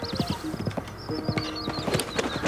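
A white horse in a Zelda game clip-clops in steady hoofbeats at close range, with a high whinny rising above the footfalls early and again midway.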